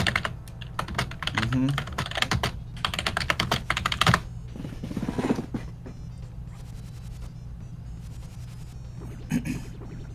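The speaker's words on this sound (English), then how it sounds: "aggressive typing." Aggressive typing on a computer keyboard comes in rapid, loud bursts of clattering keystrokes during the first four seconds, then quieter scattered taps follow, with a brief murmured voice in between.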